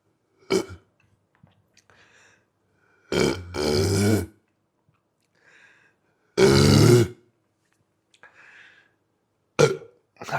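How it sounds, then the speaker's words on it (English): A man belches after drinking a can of Geist Witty Wit beer: two loud, low, rumbling burps separated by quiet pauses, with a few softer mouth noises around them. "This was a great burp."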